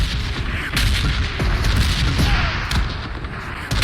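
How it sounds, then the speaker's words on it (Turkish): A rocket explosion in the video game PUBG, heavy weapons 3 vs 3 match: deep booms and scattered gunfire rumble continuously, loud and dense, with a few sharper cracks, and no talking. "Sasuke arkamdan roket attı"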